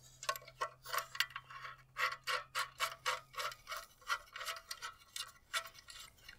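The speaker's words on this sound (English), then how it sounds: "undo this, little lock nut. Put through, screw it on." A small lock nut being screwed onto a half-inch cord grip on a MidNite Solar MNPV3 combiner box gives a run of quick, close clicking and ratcheting ticks in an uneven rhythm.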